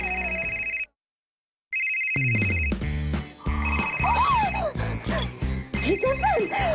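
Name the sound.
telephone ringing for a radio call-in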